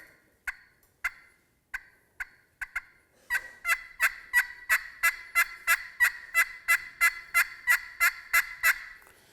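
A hand-held turkey call imitates wild turkey yelps and clucks: a few spaced single notes, then a fast, steady, rhythmic run of loud, close yelps with no talking.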